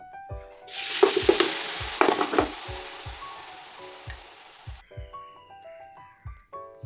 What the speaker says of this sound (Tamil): கறியை போட்டுட்டு நல்லா கிளறணும்